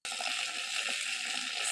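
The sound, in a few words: water poured over mustard greens to wash them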